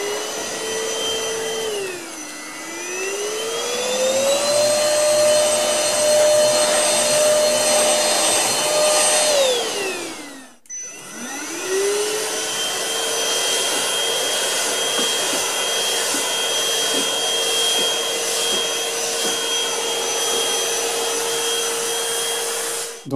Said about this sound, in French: la brosse permet aussi d'aspirer les canapés